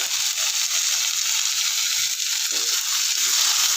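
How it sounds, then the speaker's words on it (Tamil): Two ripe tomatoes frying in a pan for a spicy tomato chutney: an even, loud hiss of sizzling that carries on throughout, with faint stirring and no talk. "தக்காளி நல்லா வதங்கணும்."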